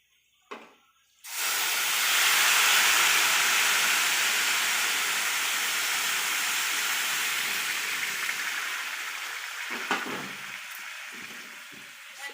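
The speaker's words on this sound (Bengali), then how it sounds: "যতটা চাল নিয়েছো তার ডবল জল দিলেই হয়ে যাবে, গরম জল" Hot water is poured into a pan of frying rice for pulao, setting off a sudden loud steaming hiss that slowly fades over several seconds, with a short clatter just before and faint knocks near the end.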